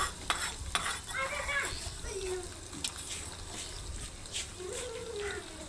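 Garlic and cumin temper in hot oil on a village clay stove, giving a soft sizzle under clinks of utensils and stirring, while people talk intermittently.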